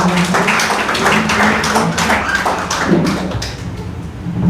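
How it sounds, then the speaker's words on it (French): A church congregation applauding the Lord, dense crowd clapping with rhythmic taps and thuds, loud and sustained throughout, with a voice faintly present beneath. "Nous applaudissons le Seigneur"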